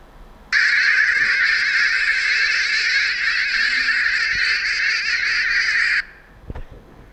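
Harsh, rasping bird alarm calls warning of a shikra hawk, a loud continuous chattering outburst lasting about five seconds close by, then breaking off, followed by a few faint knocks.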